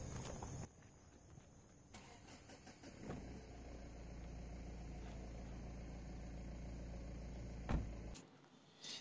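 Ford EcoSport 1.5 litre BS6 turbo diesel, Titanium Plus variant, running steadily with a low idle-like drone heard from inside the cabin, a brief thump near the end before it cuts off.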